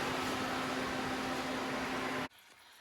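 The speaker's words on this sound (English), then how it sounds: "So we're gonna let the fans run for a bit, cool it down." Engine cooling fans run on a Ford F150 lowrider, a steady loud whooshing roar with a faint electric hum, stopping abruptly near the end and leaving quiet room tone.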